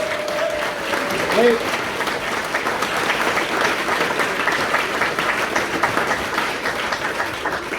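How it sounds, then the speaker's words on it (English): An audience gives steady, sustained applause at a folk music celebration concert, loud and dense throughout, with one brief spoken word near the start. "Give him a big round of applause."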